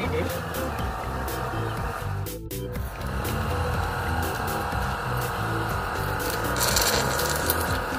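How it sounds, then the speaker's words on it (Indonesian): A motorized suction machine pulls honey from a Trigona biroi stingless bee hive. It makes a steady, close mechanical hum with a rough, rasping texture that runs unbroken from start to finish. "ini dia proses penyedotan madu dari lebat trigona jenis biroi"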